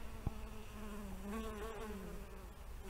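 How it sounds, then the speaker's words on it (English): Bees buzzing among persicaria flowers in a large prairie-style garden in Sussex, a steady close insect drone running through the whole stretch with a brief knock near the start. "There's a definite buzz."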